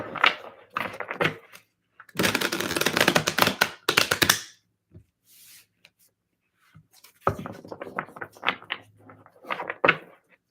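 Tarot cards shuffled by hand, a dense run of rapid papery riffles and taps in bursts, loud and close, with short pauses and softer clicks between shuffles.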